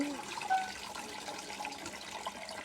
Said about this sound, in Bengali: এখন আর একটা ধোয়া দিয়ে দেব।